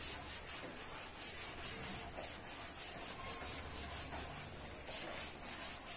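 Dry rubbing strokes wiping writing off a classroom board, a steady scratchy rasp repeating for several seconds, close and moderately quiet with no talking.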